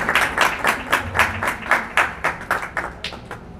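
An audience claps at a Punjabi book release ceremony, a fairly even run of claps that holds a steady rhythm for several seconds before thinning toward the end, moderately close with no talk over it.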